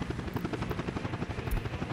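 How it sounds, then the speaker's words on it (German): A firefighting helicopter in the city-building game Workers & Resources, its rotor thudding in a steady rapid beat for under two seconds, moderately loud and with no talk over it. "Ein epischer Moment, der Heli war im Einsatz."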